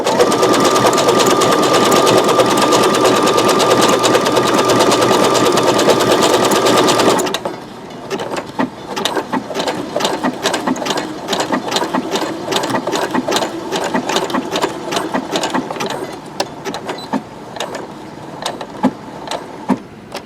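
Brother SE625 sewing machine stitching a rope bowl, a loud steady mechanical whir running alone for about seven seconds, then breaking into quicker, choppier bursts of stitching with short pauses and clicks.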